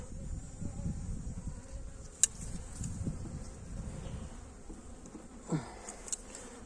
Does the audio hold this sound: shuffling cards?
no